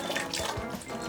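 Liquid pours steadily into a glass or container during a tabletop task, a continuous close splashing trickle with no talk over it.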